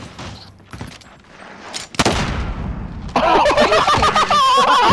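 Gunfire and blasts in a first-person shooter game, scattered shots and a loud burst midway, then sustained noisy firing toward the end.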